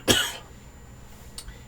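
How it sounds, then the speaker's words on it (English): One person gives a single harsh, close cough, followed by a faint short throat-clearing catch about a second later, in an otherwise quiet room. "Figures when I make a video I start to cough."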